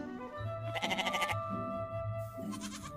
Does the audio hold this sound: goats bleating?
yes